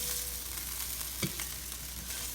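Harissa chicken searing in oil in a pan, a steady soft sizzle with one brief scrape or clunk midway and no talking.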